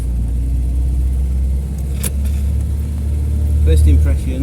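A 1979 MGB GT on the move, its engine a steady low rumble that swells briefly near the end, heard from inside the car with faint talk over it.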